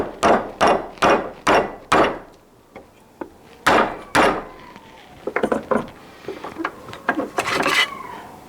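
A hammer strikes a metal radiator bracket being bent to the right angle for a V8 Celica's coolant heater line, a series of sharp, close taps in quick bursts, some louder and some lighter, with pauses between groups.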